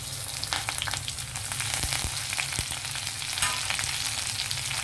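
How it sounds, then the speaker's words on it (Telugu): Garlic fries in a pan for cucumber chutney, giving a steady loud sizzle with occasional sharp crackles and pops, with no voices. "వెల్లుల్లి వేగాయి కొంచెం"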